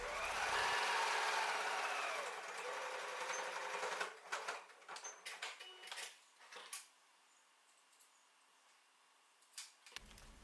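A sewing machine runs a steady stitching burst to close the opening of a lined wristlet pouch with a narrow seam allowance, then stops, leaving scattered small clicks and handling of fabric and metal parts.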